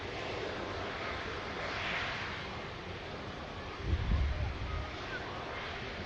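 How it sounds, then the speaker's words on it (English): An Air Transat Airbus A330 wide-body airliner at Manchester Airport gives a steady, distant broadband roar with wind noise, swelling into a deeper rumble for a moment partway through. "a beautiful wide body that is the Air Transat A330"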